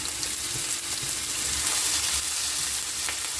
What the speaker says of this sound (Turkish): Bunlar yumuşayana kadar bu şekilde kavuracağım.